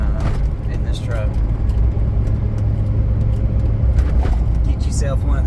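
A Chevrolet Duramax truck towing a load drives with a steady low engine and road rumble heard from inside the cab, with a voice talking over it.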